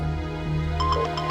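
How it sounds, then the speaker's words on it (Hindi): A phone ringtone begins partway through, a short repeating electronic melody over a low steady hum. "उठा लो, किसका फोन है?"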